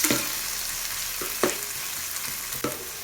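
Ginger garlic paste frying in a pan, a steady close sizzle with a few sharper stirring scrapes and spatters spaced through it, no voices.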